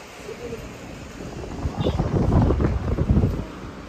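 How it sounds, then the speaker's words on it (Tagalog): Wind blusters across the microphone in rising gusts in Bohol, Philippines, rumbling and buffeting up close, with faint outdoor ambience behind. "Sarap ng hangin dito."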